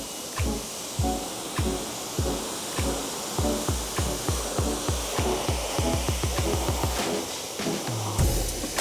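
Water spray rinsing a car during a quick wash, a loud steady hiss broken by a fast rhythm of repeated low thumps as the stream sweeps across the bodywork.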